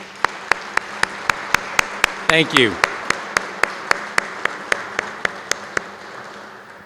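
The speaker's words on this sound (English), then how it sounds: "Can we give her a round of applause?" Applause for the wife of a retiring Prince George's County fire chief at his farewell ceremony, heard as steady, evenly spaced claps throughout while a voice speaks briefly midway.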